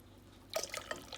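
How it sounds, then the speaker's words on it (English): Custard mixture poured into hot milk in a pan for milk popsicles, a quiet liquid splashing and dripping that begins abruptly and continues in short wet bursts, fairly close. "Into the hot milk, we're gonna add that mixture."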